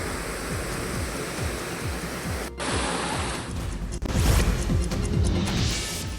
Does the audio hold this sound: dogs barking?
no